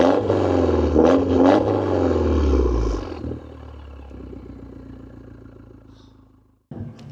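A Peugeot 208 GTi with a non-original exhaust line roars loudly and close for about three seconds, then drops into a lower, rumbling idle that fades before a brief final blip.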